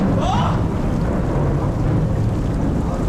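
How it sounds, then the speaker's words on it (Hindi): Heavy rain pours outside a rock cave during a cloudburst, with water seeping through the stones and dripping inside. It makes a loud, steady broadband roar that fills the whole stretch with no break. "बाहर लगातार बारिश हो रही थी।"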